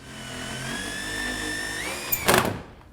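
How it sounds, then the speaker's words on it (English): A power driver whirs as it sinks a 38mm high-thread screw into a timber stud, its whine rising steadily in pitch before a brief clatter as it stops. "I will be using a 38mm high thread screw."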